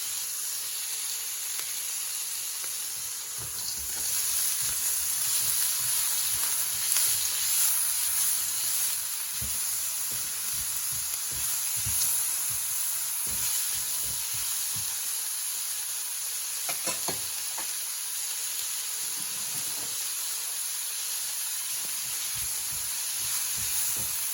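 Frozen peas and carrots fry in a hot pan with a steady, close sizzle and hiss that runs throughout, broken by occasional light stirring scrapes and clicks.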